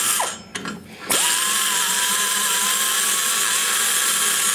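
A grinder fitted with a large burr ports a small-block Chevy 190cc ProComp cylinder head, rising after a brief start into a loud, steady high-pitched whine that holds unbroken to the end.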